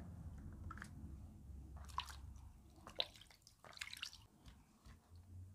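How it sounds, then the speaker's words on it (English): Water splashes and drips in small, irregular bursts as hands are washed before eating a massive cow leg mukbang meal, close and quiet with no talking. "we have water here to wash our hands before we dive in"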